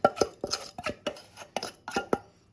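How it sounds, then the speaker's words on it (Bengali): Paneer being mixed by hand with spices, salt, chaat masala, sambar powder and a pinch of asafoetida in a bowl, giving a series of soft, close clinks and wet scrapes in an irregular rhythm, about seven strokes with no talk. "এবার ভালোভাবে পনিরটাকে মেখে নিচ্ছি।"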